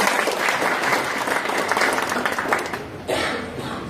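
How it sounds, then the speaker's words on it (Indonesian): Audience applause for speaker Pak Nur Khalid at an Eco Racing product knowledge event, a dense, steady crowd clapping that carries on for several seconds, loud and close, briefly dipping then swelling again near the end. "Aplaus dulu dong buat Pak Nur Khalid"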